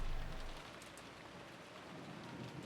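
Wind and rain effect from the Umineko no Naku Koro ni visual novel: a steady, dense hiss of heavy rainfall with a low rumbling wash underneath, continuous and unbroken, with no voices.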